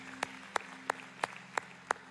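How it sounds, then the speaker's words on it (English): A church congregation claps for the Lord after a sermon: six sharp, evenly spaced claps about a third of a second apart, moderately loud over a low steady hum, with no talking. "Can we clap for the Lord and his word tonight?"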